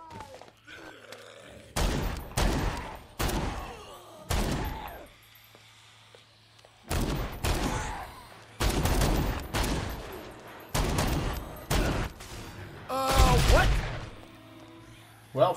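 Gunfire in the video game Dead Rising 4, in loud separated bursts of rapid shots with quiet gaps between, alongside groans and a voice speaking at times.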